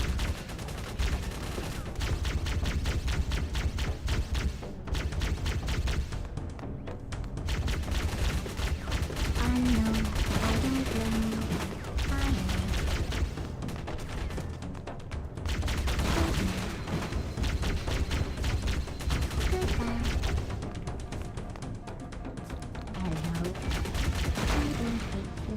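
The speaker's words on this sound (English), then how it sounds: "We'll just use the plasma pistol for distance here." Repeated plasma pistol shots in a Halo game, loud and steady over dense battle noise and music, continuing for the whole stretch without speech.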